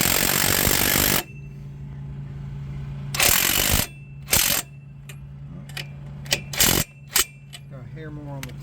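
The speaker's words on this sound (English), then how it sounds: "I'm going to do is I'm just going to use my impact and run them in a little bit just until they touch" A power impact wrench running in the strut bolts on a 2006 Chevrolet Impala: a long opening burst, then several short loud hammering bursts of varying length separated by pauses, with a low steady hum between them.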